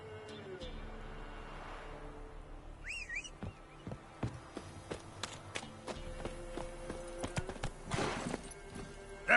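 Roach the horse walks in The Witcher 3 on PS5, her hooves clip-clopping in a steady, fairly close rhythm over a soft ambient background, with a brief voice or whinny-like call early on.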